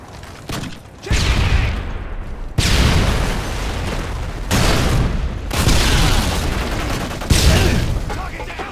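Frag grenade blasts and heavy gunfire boom repeatedly in a Call of Duty Modern Warfare 2 Domination match on Scrapyard, loud close bursts with rumbling tails, mixed with game voice callouts.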